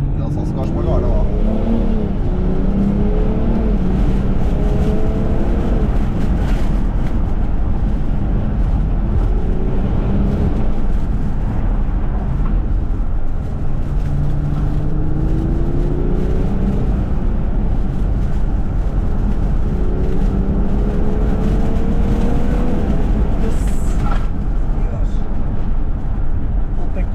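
A Stage 1 remapped BMW 550d xDrive with a worn turbo is revved at full throttle in repeated rising and falling surges, loud and close, with people talking over the engine throughout.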